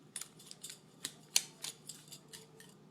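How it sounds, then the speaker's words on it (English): A small jar of powdered chicken gravy mix with salt and pepper is shaken, producing about a dozen faint, sharp ticking rattles in an uneven rhythm close by, with no voices. "I'm going to put it in my jar. Just shake it, mix it."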